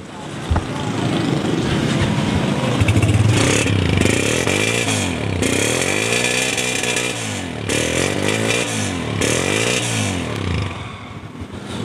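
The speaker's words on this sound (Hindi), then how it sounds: "बाइक ठंडी खड़ी थी, हल्का सा सेल्फ स्टार्ट पुश किया, होंडा हुआ स्टार्ट" A cold Honda 125 motorcycle running after a self start, its engine note rising and falling in repeated throttle blips, loud and close with a rough mechanical clatter throughout.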